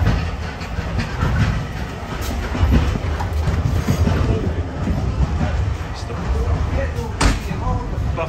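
Heritage railway carriage rolling along behind the steam locomotive Sir Nigel Gresley on the North Yorkshire Moors Railway, with a steady rumbling wheel noise and occasional knocks, heard from inside the coach while people talk.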